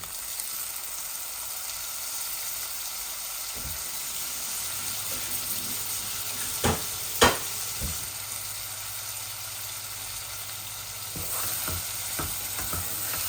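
Prawns frying in a pan give a soft, steady sizzle with a few brief louder clatters in the middle, with no voices.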